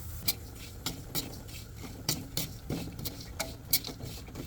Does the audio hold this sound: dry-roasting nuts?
yes